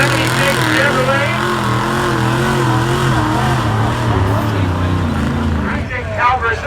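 A 1976 Chevrolet truck engine roars steadily at a county fair truck and tractor pull, loud and sustained with shifting pitch as it revs, while an announcer talks over it.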